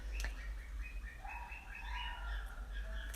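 Small birds chirp and tweet in a village, giving faint, scattered high calls over a steady low hum, with no talk.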